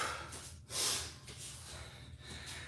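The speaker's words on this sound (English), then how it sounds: "And you can hear how labored my breathing is just from the 2 sets." Heavy, labored breathing right after two sets of weightlifting, with a sharp snort-like exhale and gasping breaths repeating close up over a quiet room, no talk.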